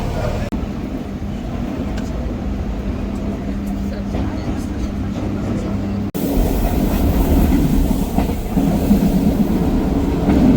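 An RER train at the Paris Charles de Gaulle airport station gives a steady rumble and rolling rail noise. The sound grows louder and fuller partway through, with murmuring voices in the background.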